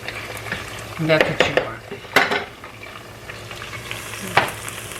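Rice with gandules sizzling and browning in a pot, with a steady fry hiss broken by scraping stirs and utensil clinks against the pot, and a voice speaking briefly.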